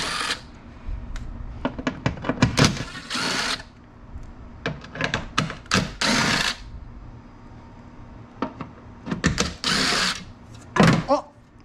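Plastic mirror cover being pried and worked loose on a McLaren car, a dense run of sharp clicks, snaps and scraping bursts in irregular clusters, close and fairly loud, with short pauses between.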